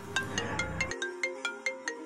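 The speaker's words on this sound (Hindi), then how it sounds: "फोन भी बजता है," A phone rings with a repeating electronic tone, regular pulsing beeps, fairly quiet and heard on its own.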